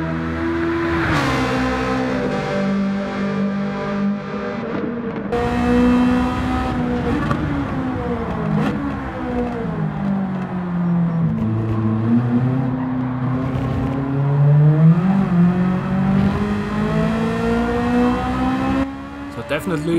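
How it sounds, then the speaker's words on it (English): An Alfa with a swapped engine in Gran Turismo 7 revs loudly and steadily, its pitch rising and falling through repeated gear changes and corners, with a voice speaking over it. "with the new engine, this Alfa sounds just beautiful"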